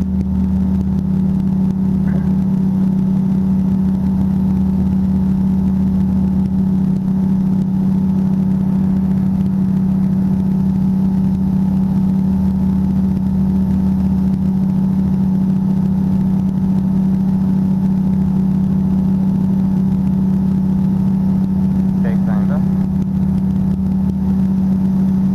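A powered light airplane's engine drones steadily and loudly throughout a landing and go-around, a constant hum with a strong low tone and little change in pitch.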